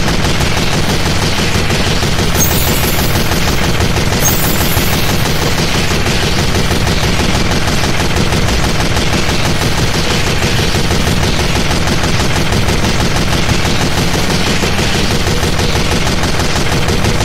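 Dense, continuous gunfire from Team Fortress 2 rattles on without pause, loud and close, with rapid machine-gun bursts layered together and a brief spoken word nearly buried beneath it.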